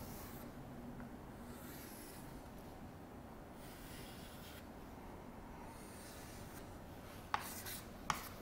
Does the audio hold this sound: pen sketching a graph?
yes